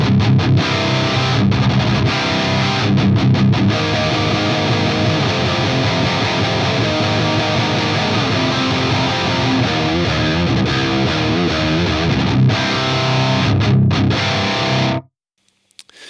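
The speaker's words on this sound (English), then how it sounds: "I'm playing a PRS SC245 in drop C with the stock pickups." Heavily distorted PRS SC245 guitar with stock pickups, tuned to drop C, played through a Recto amp model on an AX8, chugging continuously at high volume for about fifteen seconds before cutting abruptly to silence.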